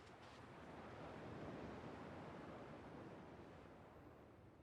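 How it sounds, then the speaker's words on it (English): Ocean waves in the Kingdom Hearts 2 video game, a soft, broad surf roar that slowly swells and fades over a few seconds, faint and steady with a breezy, windy edge. "At least the waves sound the same."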